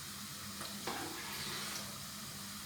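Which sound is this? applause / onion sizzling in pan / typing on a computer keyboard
onion sizzling in pan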